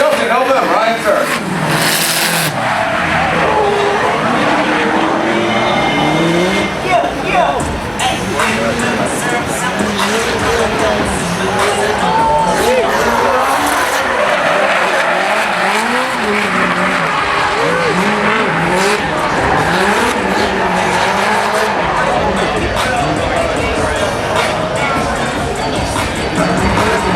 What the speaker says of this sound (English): Drift drivers at Irwindale Speedway, October 18th and 19th.